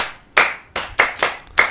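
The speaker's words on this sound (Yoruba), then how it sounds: "ẹ pàtẹ́wọ́ fún o." Sharp, close hand claps land in an uneven sequence of about six separate strikes, each one crisp and ringing briefly, with no talk.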